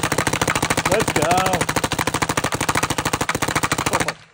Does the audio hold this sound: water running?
no